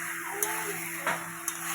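Catla fish pieces turned in fried coriander spice paste in a pan give off a faint, steady sizzle, broken by a few soft clicks of the spoon while stirring.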